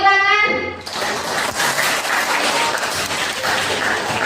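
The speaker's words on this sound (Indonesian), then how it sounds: "Ya, beri tepuk tangan" A classroom of students applauds, a brief tonal sound at the start, then a dense, fairly loud run of clapping from many hands that holds steady to the end.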